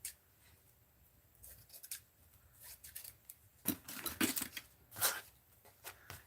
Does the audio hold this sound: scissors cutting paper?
yes